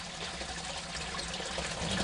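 Water from a house sump pump drain rushes and gushes steadily outdoors around a soaked yard, a continuous close, loud splashing flow with no pauses.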